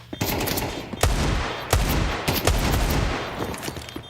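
Rapid gunfire rattles in the tactical shooter Counter-Strike during a pro match at IEM Cologne 2024, with sharp, loud bursts of automatic shots and several distinct heavy cracks over a steady, noisy background.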